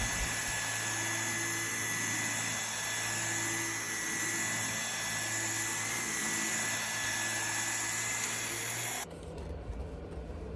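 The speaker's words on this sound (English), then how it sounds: "this is a really powerful handheld. It's getting up all of the dog hair" An ECOVACS DEEBOT T30S handheld vacuum sucks dog hair off a couch with a strong, continuous high-pitched motor whine and airy rush. It runs steadily at close range, then cuts off near the end, with no talking.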